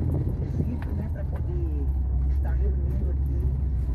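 Car engine on a farm road revving to accelerate as an elderly driver practices, a steady low rumble running throughout under several voices talking.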